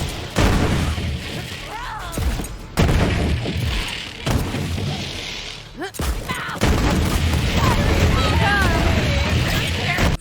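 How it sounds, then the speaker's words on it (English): Borderlands 3 Torque pistol firing three spreading projectiles per shot, heard as repeated booming blasts with crackling impacts at close range, spread through the gameplay with brief gaps between volleys. "This torque pistol shoots 3 projectiles per shot, with all of them spreading out to the left, right and up"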